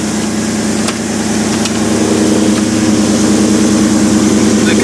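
A Ford Mustang fox body with a swapped 5.0 Coyote V8 and MagnaFlow exhaust idles steadily nearby, a loud, even, rumbling burble that holds without revving, with no talk over it.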